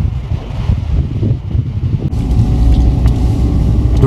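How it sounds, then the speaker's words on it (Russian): Strong wind in the mountains buffets the microphone with a constant low roar and rumble, growing louder partway through. "Больно ветер сильный."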